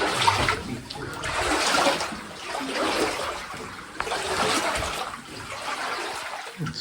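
Someone wades through nearly knee-deep water in an old silver mine, with sloshing and splashing rising and falling around the legs as steps push forward, close by in an echoey space.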